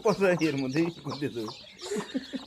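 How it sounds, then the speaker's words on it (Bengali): Brooding hens cluck close by in a run of repeated, rising and falling calls with short pauses between bursts. "রাশিদুল কি করেছে, 5টা মুরগি একসাথে বসায় দিচ্ছে কুচে।"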